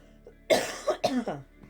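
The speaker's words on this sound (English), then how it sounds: "Excuse my coughing." A few harsh coughs in quick succession, close and fairly loud, followed by a short pause and one faint trailing cough.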